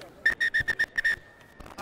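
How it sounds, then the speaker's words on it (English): A rugby referee's halftime whistle in a San Diego Legion match: a rapid run of about seven sharp, shrill blasts, close and clear, ending in one longer tone over quiet background. "And that brings the halftime whistle."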